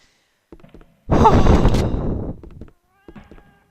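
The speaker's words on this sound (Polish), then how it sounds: "I ten cholerny kot." A cat in the video game Mortyr lets out one loud, drawn-out meow lasting over a second, preceded and followed by faint quieter sounds in otherwise near silence.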